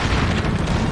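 A loud explosion in Resident Evil 4 Wii Edition, heard as a brief, heavy, rumbling burst that fills the whole moment.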